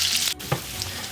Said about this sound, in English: I want to make shallow fry, not deep fry.